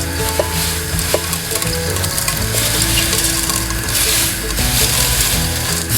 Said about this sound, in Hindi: इसे भूनना है, 2 मिनट इसे फ्राई करेंगे।